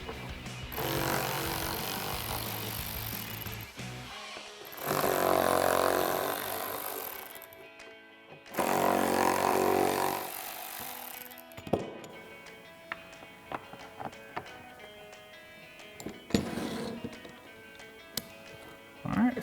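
A ratchet with a T25 socket backs out screws on a 2015-2020 Ford F-150 headlight. Several longer noisy bursts are followed by quieter, scattered sharp clicks in a fairly quiet room.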